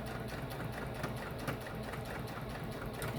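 A sewing machine hums steadily while stitching a pillowcase, its needle thumping in a fast, even mechanical rhythm throughout with no voices.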